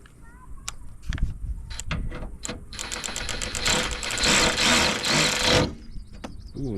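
An 18V brushless cordless 3/8-inch ratchet tightens a fastener, a close rapid mechanical whirring burst lasting a few seconds after some clicks and handling noises.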